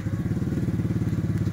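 A motorcycle engine turning over and catching, its close, loud, rhythmic low putter pulsing evenly throughout.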